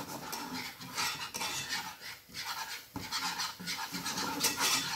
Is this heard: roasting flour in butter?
yes